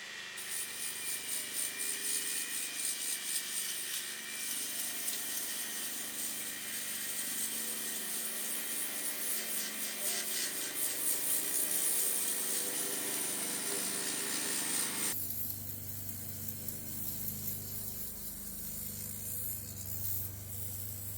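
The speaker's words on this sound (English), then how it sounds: "to polish, I'm using 1-inch silicon carbide sanding discs, starting with the lowest grit, 60." Steady high-pitched whine of a Dremel with a 1-inch 60-grit silicon carbide sanding disc grinding blue agate in jasper rock, continuous and close, with a brief change in tone near the end.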